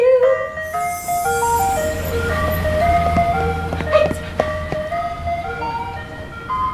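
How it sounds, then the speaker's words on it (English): An ice cream truck plays its chiming music jingle, a bright, tinkling melody of stepped notes, loud and continuous over a low engine hum and outdoor street noise. "Where's the ice cream truck?"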